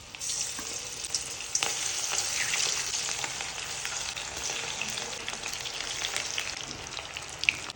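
Cauliflower pieces frying in oil, a steady close sizzle and bubbling crackle with scattered pops, continuous throughout and no voices.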